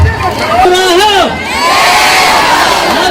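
A large, excited crowd in northern Rwanda cheers and shouts at close range, with high whooping voices rising and falling over a loud, continuous roar.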